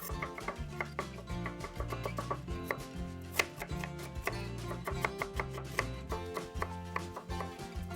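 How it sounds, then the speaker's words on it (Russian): Rapid knife chopping of garlic and onion on a cutting board, steady clicking strikes repeated throughout, with soft background music and no voices. "порежу чеснок и лук средними кусочками"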